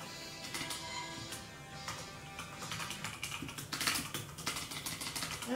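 Rapid, uneven typing on a computer keyboard, with clustered key clicks that grow busier toward the end over a steady background hum; no one speaks.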